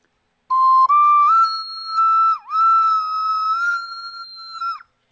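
A cheap Japanese Night ocarina plays a solo held-note line that climbs toward its high range. The tone is a pure, loud whistle with pitch dips and a thinning, strained sound near the top before it stops.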